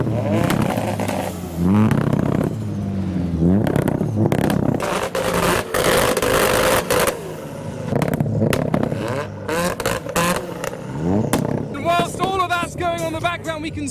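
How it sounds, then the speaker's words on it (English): Modified Nissan S15 engines revving loudly at a gathering of modified cars in the UK, with repeated throttle blips and roaring bursts over crowd noise and nearby chatter. "So we've got some S15 noises."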